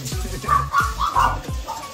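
A white dog at a pet center in Cartimar gives several short yelping barks in a quick uneven series, close and fairly loud. A pet grooming shop is nearby.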